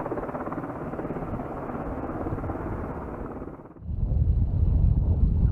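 A military helicopter's pulsing rotor drone fills the air at a firing range, then shifts to a deeper, heavier low rumble partway through.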